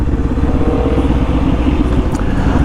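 Motorcycle riding slowly in traffic, a 300 cc starter bike giving a steady, loud, close low engine drone with wind rumble and no clear talking.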